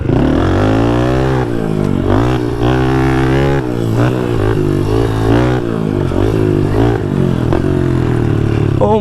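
A JR80 pit bike engine revs hard while being ridden, a loud, buzzy, sustained drone that rises and falls in pitch with the throttle. Faint clatter sits underneath.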